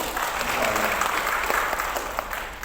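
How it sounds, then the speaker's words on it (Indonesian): A seminar audience claps for the Palu branch at a gold business event, a moderate, steady round of applause with some voices mixed in. "Tepuk tangan buat cabang Palu."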